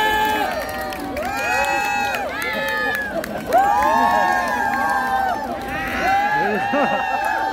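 A street busking crowd in Hongdae, Seoul, claps and cheers for a performing group, with bursts of shouting and whoops. A host's amplified voice talks over the noise.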